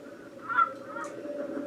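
Geese give a few short honking calls over a steady low background murmur, with one louder honk near the middle.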